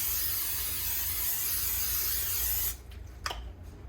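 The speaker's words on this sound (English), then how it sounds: "you want to grease your pan" Cooking spray hisses steadily from a can onto a casserole pan for nearly three seconds, close and loud, then cuts off, followed by a couple of faint clicks and rustles.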